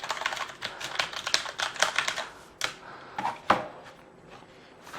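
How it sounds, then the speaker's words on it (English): Typing on a Corsair Vengeance K90 mechanical gaming keyboard, close and loud clacky keystrokes in quick irregular bursts, with a few heavier strikes and short pauses between runs. "It's quite a loud typer."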